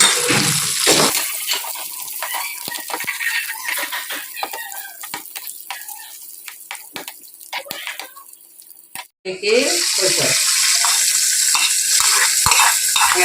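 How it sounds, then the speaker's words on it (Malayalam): Cashews and raisins frying in ghee in a pan for Onam parippu payasam, a loud hissing sizzle with a spoon stirring and scraping, briefly dropping away before the sizzle surges back, with talk over it. "പാനിലേക്ക് നെയ്യ് ഒഴിച്ചിട്ടുണ്ട് പിന്നെ ഇതിലേക്ക് നമുക്ക് ആദ്യം ഒന്ന് അണ്ടിപ്പരപ്പിട്ട് കൊടുക്കാം പിന്നെ അതിലേക്ക് നമുക്ക് മുന്തിരിങ്ങയും കൂടി ഇട്ട്"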